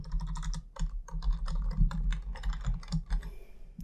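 Typing on a computer keyboard: rapid, irregular keystrokes clatter close by for the whole stretch, with no voices, over a steady low hum.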